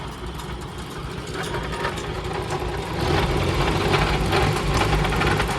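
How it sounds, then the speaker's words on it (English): A Farmall Super A tractor hitched to a cyclone spreader runs with its loud power take-off engaged, a continuous, close engine drone with mechanical rattle that grows slightly louder midway and has no speech over it. "My PTO on this thing is loud."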